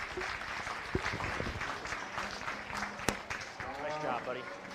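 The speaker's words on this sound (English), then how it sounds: "give all your home-raised exhibitors a nice round of applause" Applause from onlookers for home-raised exhibitors at a county fair beef show, a broad wash of clapping throughout with people talking over it and a few sharp knocks.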